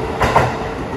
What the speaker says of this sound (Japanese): あ、いたよ235系が動いてましたね。